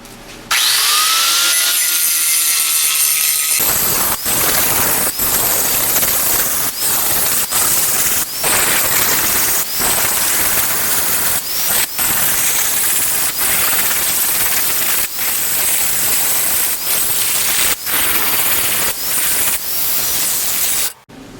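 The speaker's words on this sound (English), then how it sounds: "we'll just grind this a bit smoother, flatter, and we'll be looking pretty freaking good" Angle grinder smoothing and flattening a metal part in a workshop, a loud continuous harsh whine with brief dips and sharp breaks as the tool lifts and bites again, running almost throughout after a quieter start.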